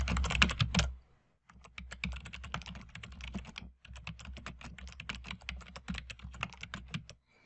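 Rapid clicking keystrokes on a computer keyboard, heard close and moderately quiet, arriving in steady bursts with two brief pauses while an email is written in Microsoft Outlook.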